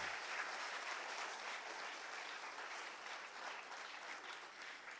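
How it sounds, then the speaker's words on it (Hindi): Applause for a group of children at a campaign launch event at the Nehru Memorial Museum and Library in New Delhi: steady, even clapping from a crowd that holds throughout at a modest level. "सभी बच्चों के लिए जोरदार तालियां"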